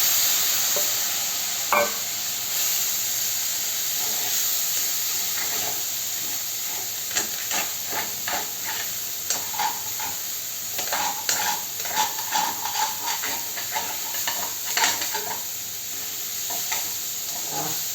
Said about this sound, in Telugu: ఇప్పుడు దీంట్లో మనం ఈ ఉడికించుకున్న ఈ గోరుచిక్కుడుకాయలు కూడా ఇందులో వేసేద్దాం.